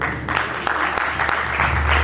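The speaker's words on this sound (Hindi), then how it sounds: "एक बार जोरदार ताली होनी चाहिए आप सभी के लिए" Audience clapping fills the hall at a music album release event, a dense, steady patter with a voice speaking over it.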